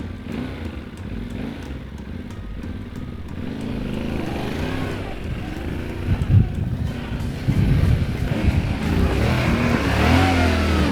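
A Yamaha Ténéré 700 adventure motorcycle labours up a steep hill in second gear, its engine a low, rumbling drone that builds gradually, with wind buffeting the microphone throughout.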